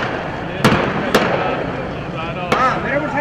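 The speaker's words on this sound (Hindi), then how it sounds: "ये रबड़ वाली गोली चलाते हैं" Three sharp cracks of police firing rubber bullets ring out at uneven intervals over a noisy protest crowd in Islamabad, fairly close.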